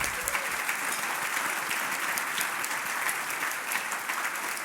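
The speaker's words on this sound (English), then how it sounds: "How about another round of applause?" A crowd at an annual community awards ceremony claps for the award winners, a steady wash of applause at moderate level sustained for several seconds without speech.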